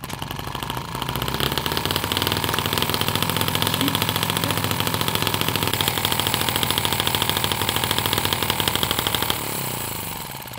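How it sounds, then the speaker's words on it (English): A small transparent 3D-printed resin combustion engine runs hard and steady, a dense rapid firing rattle that holds loud for about nine seconds before cutting off. "You heard the engine working and that didn't sound less powerful than gasoline."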